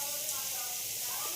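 Potatoes sizzle in a frying pan as turmeric goes in, a steady broad hiss of hot oil running throughout at close range.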